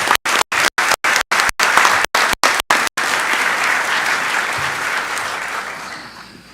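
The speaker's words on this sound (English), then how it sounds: "So one more round of applause" Applause for students at a board of education meeting fills the room as a loud, dense burst of clapping from a large audience, holding steady and then gradually thinning toward the end.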